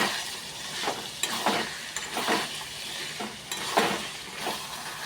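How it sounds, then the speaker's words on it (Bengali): Fried potatoes with peas and chickpeas are stirred and sautéed in a pan, a series of soft scraping stirs over a low, quiet sizzle with no talking. "মটর ছোলাগুলো একসঙ্গে দিয়ে দেবো, দিয়ে আবার একটু কষাতে হবে"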